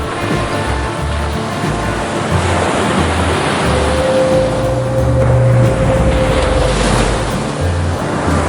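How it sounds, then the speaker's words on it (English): Ocean waves wash and surge loudly in a dramatized sea scene from a Moby Dick horror story, a continuous rolling roar with swelling surges and low rumble, no voices. "Ishmael watches the last of the Pequod disappear beneath the waves"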